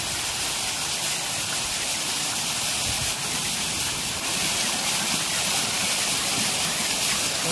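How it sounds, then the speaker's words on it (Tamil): Steady, dense rush of falling water pours without pause, a constant loud hiss like a waterfall heard up close. "தண்ணி இங்கே கீழே கொட்டி இப்படி வருதுங்க"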